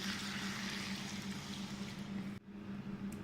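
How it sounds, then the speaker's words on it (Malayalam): Water poured into a pot of raw plantain curry, a steady close liquid rush with a brief break near the end, no voices. "ഇനി ഇതിലേക്ക് എടുത്തു വെച്ചിരിക്കുന്ന വെള്ളം ഒഴിക്കാം."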